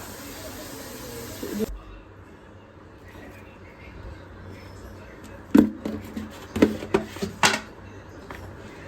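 Steam hisses steadily from a pressure cooker for a moment, then cuts off abruptly, followed by a quiet room and a series of sharp clinks and knocks.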